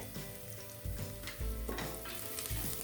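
Moong dal and chana dal sizzle as they fry in oil for amaranth saaru, with a steady close crackle broken by a few louder stirring scrapes and thumps in the pan; no voices.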